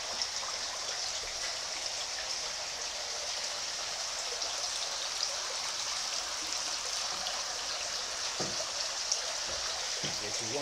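Water pours from a hose pipe while a catfish hatchery is being cleaned, a steady, even splashing and rushing hiss that carries on without a break.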